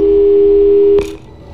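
A steady telephone dial tone in the Portal 2 video game holds for about a second, then ends with a click and fades into quiet background.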